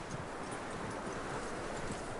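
Horse hooves clip-clop steadily in Red Dead Redemption 2, a continuous rhythmic trot under a wash of wind and rustling ambience, with no talking.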